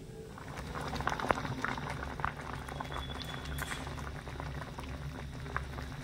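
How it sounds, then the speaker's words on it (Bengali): Mango murabba, pieces of ripe mango in syrup, bubbles away in a pot with a soft, steady boiling and popping close by, low in level and with no talk over it. "তো এই দেখুন এখানে খুব সুন্দরভাবে একটু ফুটে উঠেছে।"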